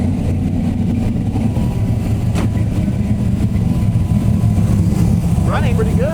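An LS V8 engine fitted with three lawn mower carburetors runs loud and steady through a pull, a constant thick drone with a brief voice rising near the end.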